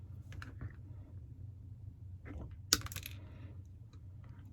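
Wire for a flower wreath being trimmed down with cutters: a couple of faint clicks, then one sharp, bright snip of metal, close by against a quiet hum.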